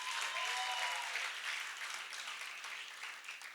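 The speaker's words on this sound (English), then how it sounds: "that genius deserved a bigger round of applause" Applause from a concert crowd for the Hero movie music concert, loud at first and then easing off, with dense clapping and a faint tone briefly over it.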